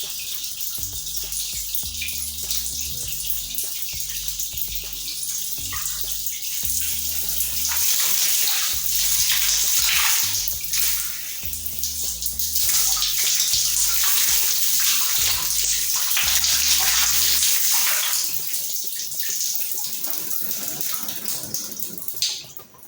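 Tap water runs and splashes unevenly while hair is washed, a continuous hissing stream with a low rhythmic hum underneath, and no speech throughout.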